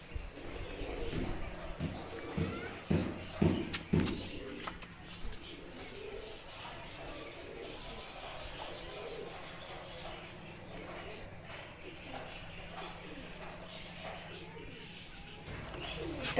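Pigeons coo softly in low, rounded calls, clearest early on, while someone speaks nearby and faint outdoor background sound continues.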